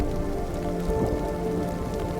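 Steady rain pattering densely on surfaces in a cartoon jungle, a constant loud wash of drops with no pauses.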